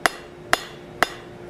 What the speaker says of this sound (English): now we're gonna come from the top with some overlapping hammer blows